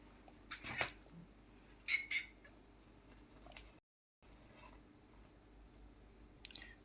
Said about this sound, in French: vous entendez probablement les miaulements du chat qui s'impatiente